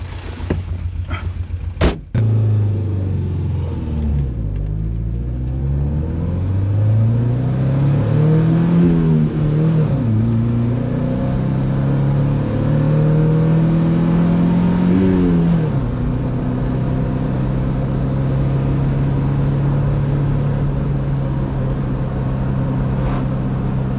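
A 1966 Alfa Romeo Giulia Sprint GT Veloce engine revs up and down after a brief clatter at startup, then settles into a steady, strong idle drone. Loud, close and continuous, with no voices.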